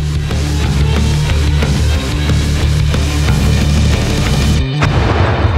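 Grenade detonating on a basic training grenade range, a heavy low-frequency thump with a sharp burst near the end, set against constant loud rumble and noise.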